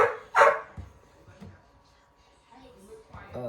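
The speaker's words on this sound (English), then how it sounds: "my grandson's dog is barking" A dog indoors gives one loud, close bark near the start, followed by a few quieter yips. A voice speaks faintly around them.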